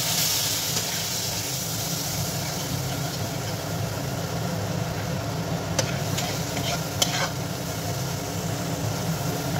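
Spice paste for doi bhetki fries in a pan with a steady low sizzle and hiss, while a few sharp scrapes and clinks from stirring stand out near the end.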